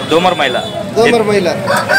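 Rooster crowing nearby at Nellore's Sunday poultry market, loud warbling calls overlapping with clucking and other fowl sounds, with voices faintly in the background.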